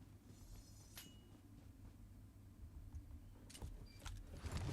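A car in the PUBG Mobile battle royale game hums with a low, steady engine drone that stays faint and distant, broken by a few light clicks and clinks, and grows slightly louder toward the end.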